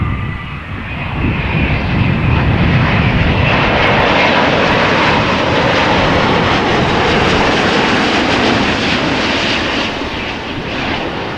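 An Air Europa Boeing 787-9 Dreamliner jet arriving at Amsterdam Schiphol Airport produces a loud, broad engine roar that swells and holds steady, then eases slightly near the end, with no talk over it.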